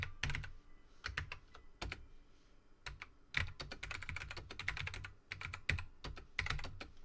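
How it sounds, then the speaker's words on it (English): Close, brisk typing on a 90s mechanical Dell keyboard: clustered clacky keystrokes in rapid runs with short gaps, steady and alone. "enjoy these Dell keyboard sounds at least, like 90s mechanical Dell sounds"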